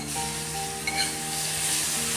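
Fried eggplant is added to a pan of sizzling onions and garlic for vatha kuzhambu, making a loud, close, continuous sizzle with a brief stirring scrape partway through.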